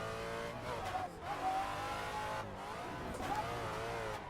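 A car drifts without the handbrake in a racing video game on a track called Green Valley, its engine revving and wavering in pitch as the throttle is held, with tire squeal woven through and no talking.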